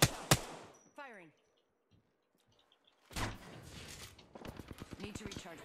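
Gunfire in the Apex Legends video game: a sharp shot burst at the start, then a rapid string of loud, close shots toward the end, with a quiet gap between.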